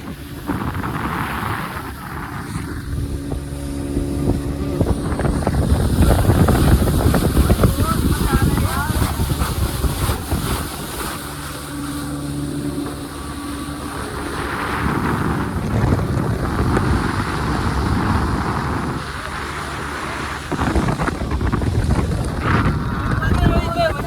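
Wind buffets a boat ride on open water, the gusts and engine-like rumble steady throughout, with people talking over the noise.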